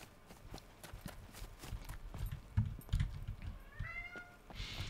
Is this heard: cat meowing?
yes